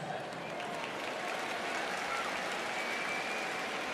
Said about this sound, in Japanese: この大歓声どう聞こえていますか？